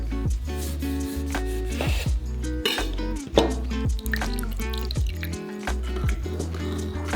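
A whole lime, rolled first to loosen it, is squeezed by hand into a seasoned sauce for Malaysian-style mee goreng, giving short wet squelches and scattered drips under steady background music.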